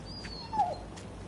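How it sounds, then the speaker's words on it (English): A dog whimpers softly in the zombie game Dead Island 2, a single brief high whine rising and falling over quiet game ambience, faint and distant. "is there a dog in the game? Okay. It sounds like it's coming from the game."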